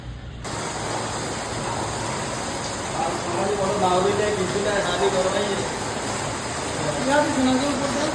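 Floodwater from heavy rain rushing and spraying in a steady broadband hiss, loud and continuous throughout, with faint voices murmuring beneath it.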